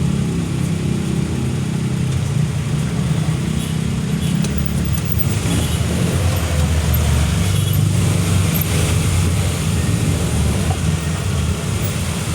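Heavy road traffic noise in a jam, a continuous loud rumble of idling and slowly moving car engines close by, with no speech.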